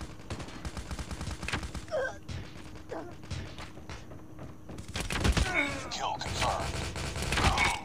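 Dense gunfire from a popular map in a PS3 first-person shooter game: rapid bursts and volleys of shots crackle throughout, growing louder and more continuous toward the end.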